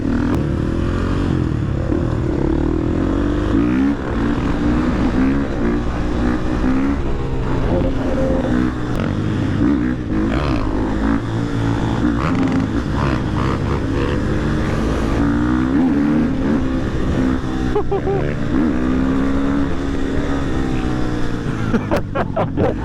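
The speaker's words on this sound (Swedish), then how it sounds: "Det är fucking hets med de här jävla motorerna." Motorcycle engines on a group ride in Denmark drone steadily and loudly throughout, with shifting revs and passing engine tones forming a continuous dense roar.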